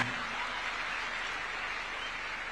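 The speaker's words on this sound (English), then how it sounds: "Another round of applause for His Excellency." An audience applauds for the president at an event with graduate interns, a steady dense patter of many hands clapping, moderately distant and even throughout the short stretch.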